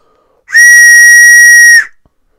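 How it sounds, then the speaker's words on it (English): A handmade whistle blown once in a loud, pure, steady high tone that holds for about a second and a half, with clean overtones, before stopping abruptly into silence. "It does give a bit of a range with the tones as you go through blowing the whistle."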